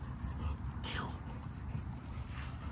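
Dogs whimper softly in a high, thin whine under a murmur of close voices and steady low background rumble.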